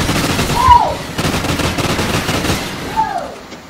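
Rapid gunfire rattles in a first-person shooter match as a player tries to shoot through a wall, with dense bursts of shots up close and faint whistling streaks passing overhead.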